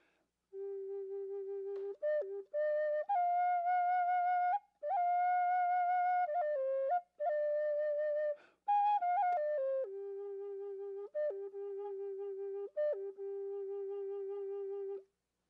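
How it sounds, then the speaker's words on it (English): A Choctaw-style flute made from river cane plays a slow, breathy melody of long sustained notes with short pauses between phrases, solo and clear. "This flute is made from river cane, and it sounds like this."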